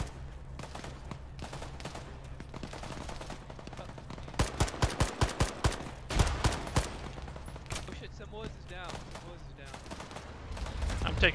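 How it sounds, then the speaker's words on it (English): Gunfire crackles during a military assault, with scattered shots in the first seconds, then a close rapid burst of automatic fire, followed by further shots and radio-style voices talking over the combat. "Taking fire."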